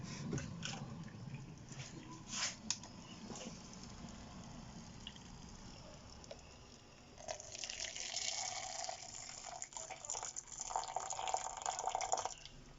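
Hot and then cold water run into a measuring jug in a home kitchen. The stream is soft, splashy and trickling and gets fuller and louder in the second half, with faint clinks.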